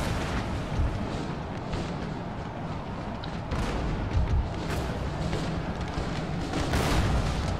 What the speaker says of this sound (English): Let's turn on canister fire.